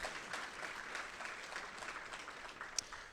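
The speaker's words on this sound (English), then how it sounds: "That probably deserves a round of applause." Applause from an audience at a business breakfast event honoring a local company, a steady wash of clapping at moderate level with one sharper clap standing out near the end.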